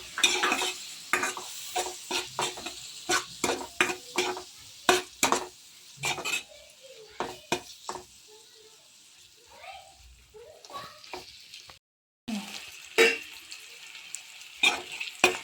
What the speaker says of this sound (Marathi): अब इसमें हम कटे हुए टमाटर को डालेंगे.